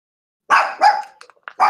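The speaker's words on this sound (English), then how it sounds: "There's my dog again." A dog barks three or four times in a row, loud and close, with short pauses between barks and a few brief yips in the gaps, heard during a tabletop Dungeons & Dragons session.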